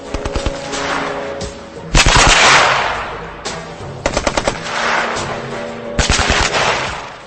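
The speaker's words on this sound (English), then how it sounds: "Firing in short bursts is the Army-approved machine gun technique." A historic machine gun, a Gatling or Maxim type, fires in loud short bursts separated by brief pauses. The repeated rattling volleys carry a heavy echo and are heard with no talk.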